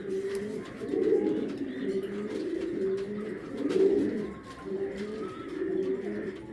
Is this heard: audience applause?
no